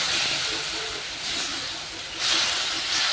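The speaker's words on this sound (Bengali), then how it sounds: "মশলাটা দিয়ে ভালো করে এবার কষিয়ে নিচ্ছি।" Spice paste sautés with hog plum in a pan, giving a loud, close, continuous sizzle and hiss that swells slightly near the end.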